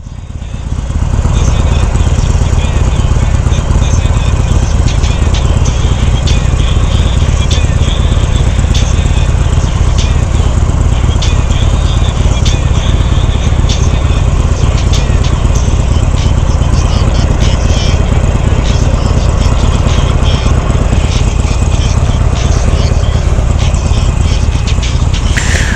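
A Honda Rebel 500 motorcycle engine runs continuously while riding, a loud, steady rumbling drone with wind buffeting close to the recorder, holding constant for the whole stretch without clear gear changes.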